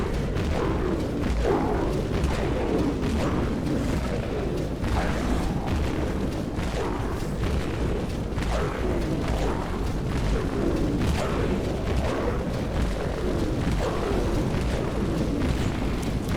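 Grenade launcher fire from the XM79 in the video game Dead Frontier, a continuous rumble of overlapping booms and blasts that stays loud and dense throughout without any pause.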